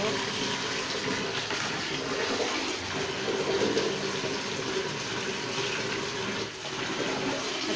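Water pours and splashes steadily over a goat being bathed with shampoo, a continuous rushing, trickling wash running under people talking.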